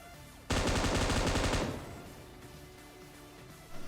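Rapid automatic gunfire from a gun in PUBG Mobile, a loud, dense burst of about one second that cuts off abruptly, leaving a fading tail and a faint following shot.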